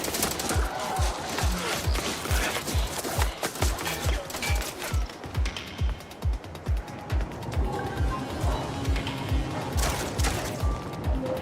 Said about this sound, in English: Is that gunfire I'm hearing?